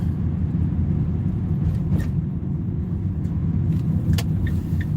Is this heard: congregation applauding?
no